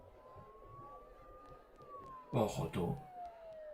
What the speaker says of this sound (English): Those sirens sound really close.